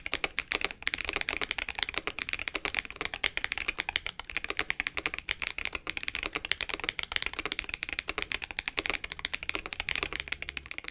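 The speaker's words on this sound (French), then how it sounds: "je vous laisse un test audio du clavier sans modification" Fast, continuous typing on an unmodified Dynatab X75 mechanical keyboard with tactile switches, dense key clacks in a quick, steady rhythm, close and clear throughout.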